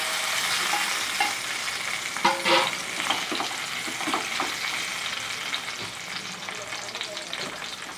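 Tomato pieces simmer and sizzle in oil in a pan for a chutney, a steady broadband frying hiss with intermittent scraping stirs, close and fairly loud, no talking.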